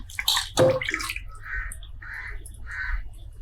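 Cut mackerel pieces are rinsed in water, with sloshing and splashing bursts, a heavier splash early on, and softer water movement after. A crow-like caw may sound faintly nearby.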